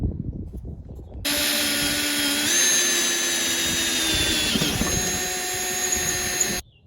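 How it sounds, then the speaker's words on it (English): A power drill whines steadily as it bores a hole in a Jeep JL rear bumper, its pitch shifting slightly under load, starting abruptly after a quiet moment and stopping sharply about five seconds later, close and loud. "And we got our first hole to drill."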